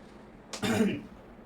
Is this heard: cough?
yes